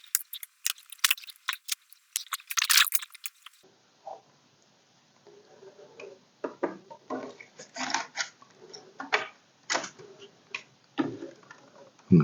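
A Commodore SX-64's built-in disk drive is tested, giving irregular small clicks, ticks and mechanical rattles, some sharp and bright, others softer, with quiet gaps between bursts.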